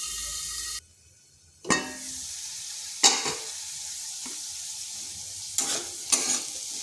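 Papaya pieces frying lightly in a home kitchen pan, a soft sizzle broken by a few sharp scrapes and knocks of stirring, with a short near-silent gap early on.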